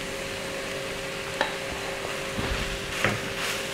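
Crushed coconut is stirred into tender jackfruit thoran in a pan, with a soft steady sizzle and a few light scrapes and taps of the spoon against the pan, close up and without talk.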